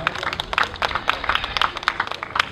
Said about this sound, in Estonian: aplaus tantsustuudio Brilliantsele